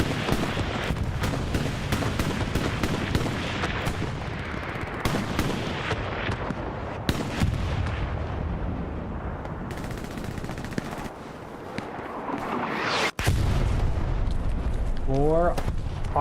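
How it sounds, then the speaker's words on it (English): Artillery shells explode again and again in a 49-versus-49 online war game match on the Kharkov map, with heavy booms and rattling gunfire throughout while a commentator talks over the battle. "For our allied artillery landing here."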